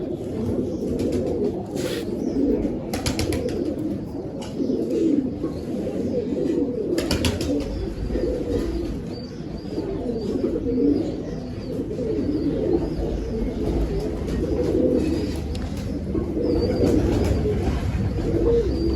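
Young pigeons cooing in soft repeated calls over a steady low murmur of background noise, with occasional brief clicks.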